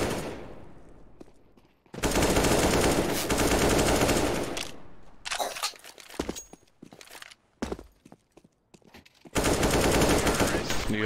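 Loud automatic gunfire in the Counter-Strike: Global Offensive video game: long sustained sprays of shots, broken by scattered single cracks and short bursts, then another heavy continuous burst at the end.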